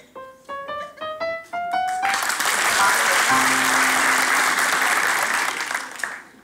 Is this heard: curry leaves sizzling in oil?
no